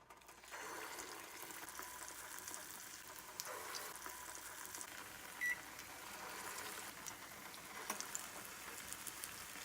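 Medu vada, urad dal fritters, fry in hot oil, giving a faint, continuous crackling sizzle with small pops scattered throughout.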